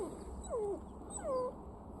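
A dog gives two short, high whimpering whines with a rising-falling pitch, close by over a low background rumble.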